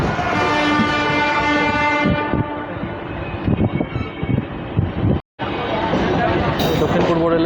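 The Agniveena Express passenger train passes nearby on the South Eastern Railway line near Santragachi toward Howrah, giving a loud, sustained tonal blare like a horn over rolling rumble, then clattering wheel noise that briefly cuts out and returns.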